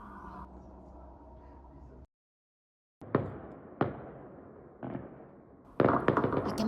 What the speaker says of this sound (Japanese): 花火が打ち上がってるんですが